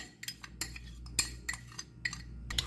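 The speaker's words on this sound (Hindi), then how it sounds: "इनको अच्छी तरह मिक्स करना है ताकि यकजान हो जाए" Egg being mixed into zeera biscuit batter in a bowl, with light irregular clinks and scrapes of a utensil against the bowl, close and fairly quiet, with no talking.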